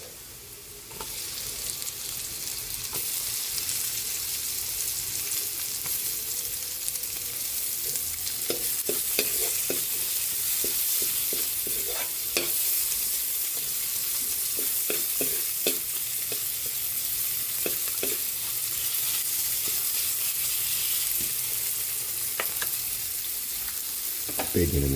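Chopped onions sizzle steadily in hot oil as they are sautéed for a chicken pakbet-style vegetable dish, a constant dense frying hiss with occasional clicks of stirring, close and fairly loud throughout.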